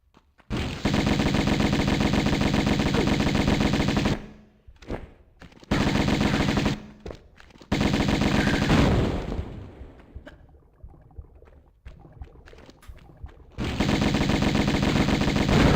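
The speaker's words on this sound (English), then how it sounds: "Instant shooting." Gunfire in Tomb Raider Remastered: loud sustained bursts of rapid shooting separated by short gaps and scattered single shots, with a fading echo in the middle before another long burst.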